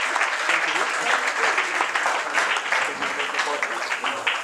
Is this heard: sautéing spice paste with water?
no